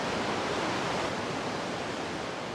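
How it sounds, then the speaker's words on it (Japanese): A huge Icelandic waterfall fed by glacier meltwater roars as a steady, close, broadband rush of falling water, loud and unbroken throughout. "氷河から溶け出た水が作る巨大な滝"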